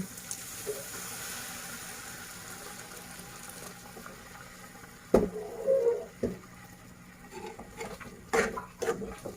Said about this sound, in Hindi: और इस तरीके से अच्छे से इसको मिक्स कीजिएगा